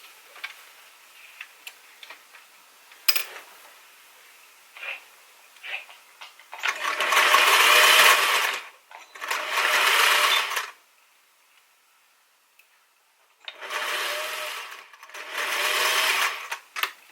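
A sewing machine runs a straight stitch in four bursts of rapid, whirring needle clatter, close and clear, separated by quiet gaps with small ticks and handling clicks beforehand.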